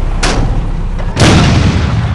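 Two heavy tank cannon shots boom out in the War Machines tank shooting game, one short blast followed by a second, louder, longer one, both loud and close with no talk.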